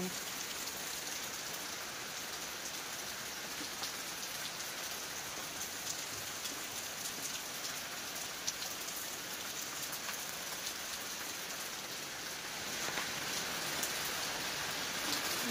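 Heavy rain falls steadily outdoors, a dense, even hiss of drops on surfaces that continues without a break and swells slightly louder near the end, with no voices.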